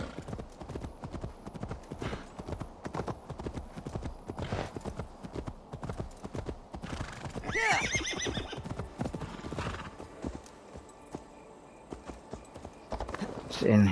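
A horse in the Assassin's Creed Valhalla video game gives a loud whinny amid steady clip-clopping hooves, with people talking over the game sounds.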